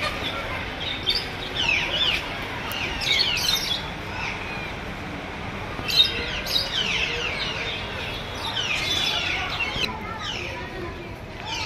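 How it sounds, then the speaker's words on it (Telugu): Red junglefowl call in a zoo enclosure with short bursts of squawking and clucking. The calls rise over a constant wash of outdoor noise, with a few sharper calls around the middle. "ఎర్ర అడవి కోడి అట. అడవి కోడి ఇది."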